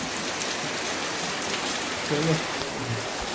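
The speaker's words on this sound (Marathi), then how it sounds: "अजून काय पाऊस थांबायचं नाव नाही घेत आहे" Heavy rain with wind pours down as a dense, steady hiss, close and loud throughout, with a brief low murmur near the end.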